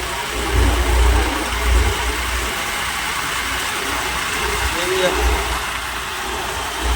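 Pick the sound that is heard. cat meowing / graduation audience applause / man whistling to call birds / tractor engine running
tractor engine running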